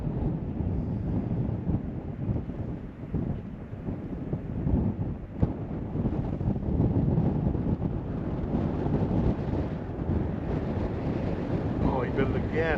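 Heavy wind buffets the microphone steadily throughout, a loud low rumbling roar, inside a hot tent while ice fishing for crappie in winter.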